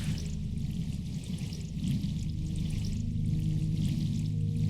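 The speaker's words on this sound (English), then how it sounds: "It made a squirting noise and it didn't do anything else." A squirting, pouring water effect in the video game The Siege and the Sandfox, a steady liquid rush with a low rumbling bed running continuously for several seconds, fairly loud and with no voice over it.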